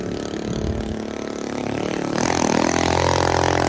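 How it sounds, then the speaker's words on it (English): A loud small motorcycle engine rumbles near a gas station at the Walker Country Store, a steady buzzing drone that swells and rises in pitch partway through, with no talk. "That's the loudest little motorcycle I've ever heard in my life."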